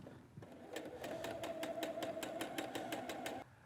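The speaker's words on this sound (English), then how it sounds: "So I'll add shape 2 to the short end of shape 8, and sew a 1/4 inch seam." Sewing machine stitching a quarter-inch seam joining two die-cut quilt pieces, a steady rapid mechanical whir with regular needle clicks running continuously for about three seconds, close and moderately loud.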